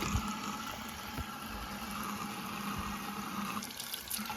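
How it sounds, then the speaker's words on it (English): Cold water runs from a tap into a sink and down the drain, a steady broadband rush that holds at an even level for a few seconds. "Let's add the cold water."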